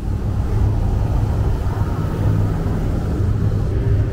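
Small truck with two benches in the back rumbling along a Bangkok street, a steady, loud low engine drone with road noise and no talking.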